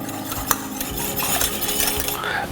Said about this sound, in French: un petit coup de fouet